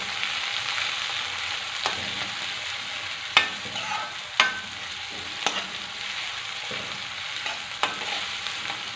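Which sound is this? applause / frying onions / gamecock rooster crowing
frying onions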